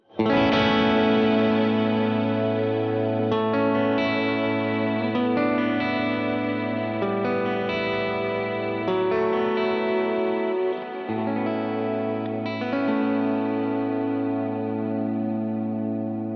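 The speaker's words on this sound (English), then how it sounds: "let's add in a little bit of reverb and hear how things sound now" An electric guitar with a clean tone through a reverb pedal strums sustained chords drenched in reverb, notes ringing and blending into a lush wash, loud and close, without any voices.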